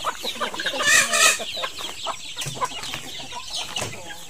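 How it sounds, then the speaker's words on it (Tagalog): A hen clucks repeatedly after laying an egg, with a run of loud, rhythmic squawking cackles near the start that trail into scattered softer clucks, close by in an outdoor hillside setting. "Parang may nangitlog na manok."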